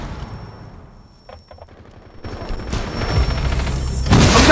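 Gunfire in the online shooter Rainbow Six Siege, a few sharp shots early followed by sustained, loud rapid bursts that build toward the end.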